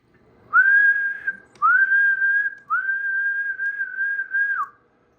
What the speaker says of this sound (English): So if I whistle it